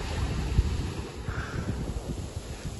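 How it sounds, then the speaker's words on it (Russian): Sea waves washing onto the shore at Kobuleti on Georgia's Black Sea coast, a low continuous rumbling surge mixed with wind buffeting the microphone, no voices. "И все это под шум волн."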